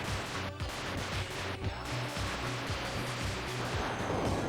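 Shooting at an enemy in an Atari 2600 video game: dense, noisy bursts of blasting fire with a pulsing low electronic drone underneath, continuous and fairly loud throughout.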